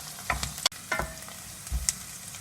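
Onions frying in a pan until browned, for a spicy gongura pulao; soft sizzling with a few clinks and stirring scrapes, close by and fairly quiet, no talking.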